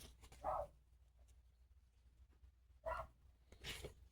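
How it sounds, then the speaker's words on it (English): A dog barks in the background indoors, two or three separate barks spaced apart, fairly faint and distant against a quiet room. "Sorry about the barking in the background."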